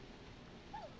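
A neighbor's dog in the game Killer Frequency gives a single faint, brief yelp or whimper, heard distantly over a low, steady background hiss.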